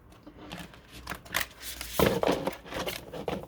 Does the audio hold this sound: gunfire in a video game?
no